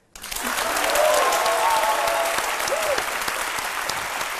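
Studio audience applause on a midday television show, clapping that starts suddenly and stays loud and even, with faint voices underneath.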